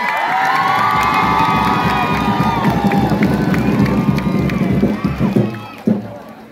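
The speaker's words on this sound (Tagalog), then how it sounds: "pag malakas ang palakpak nyo, may kasamang hiyawan" Crowd at a Filipino political rally cheers loudly, with shouting and high voices over clapping in a dense, continuous roar that tapers near the end.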